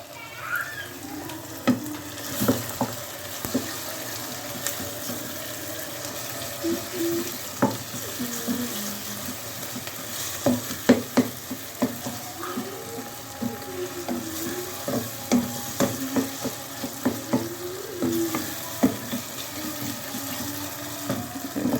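Tomato paste frying with softened onions in a pot, a steady low sizzle with repeated spoon scrapes and stirring knocks close by, sometimes lightly clinking, and no talk over it.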